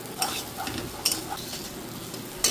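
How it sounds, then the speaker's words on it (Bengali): Bitter gourd slices fry in a pan, a soft sizzle broken by several quick spatula scrapes and taps, quiet and close with no talking. "এখন আমি উচ্ছেটা ভাজছি।"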